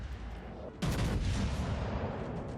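Naval gunfire from a warship in World of Warships fires in one sudden heavy blast, followed by a long, deep, rumbling roar that carries on to the end.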